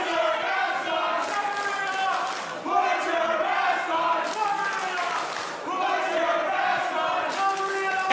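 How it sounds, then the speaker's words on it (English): A wrestling crowd at a Canadian independent show chants in unison, a rhythmic cheer rising and falling in repeated phrases from many voices, filling the hall at moderate distance. "I like this cheer."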